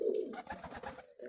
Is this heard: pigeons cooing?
yes